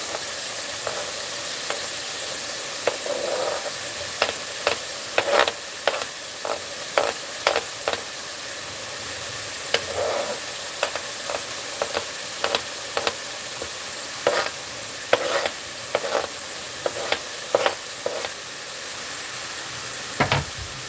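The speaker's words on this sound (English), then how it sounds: "let's add the onion and the garlic." Onion and garlic frying in a pan, a steady bright sizzle throughout with frequent rhythmic spatula scrapes and clacks as they are stirred, close and fairly loud, with no voices.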